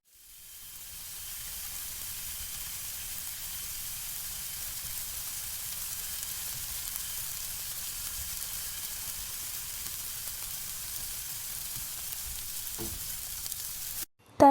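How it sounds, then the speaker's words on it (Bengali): Chopped onion, chili, garlic and tomato fry in butter in a pan, giving a steady close sizzle that runs unbroken until a brief clatter at the end. "প্রথমে প্যানে দেবো মাখন। তারপর তার মধ্যে দেবো পেঁয়াজ কুচি, লঙ্কা কুচি, রসুন কুচি, টমেটো কুচি দিয়ে ভালো করে মিক্স করব।"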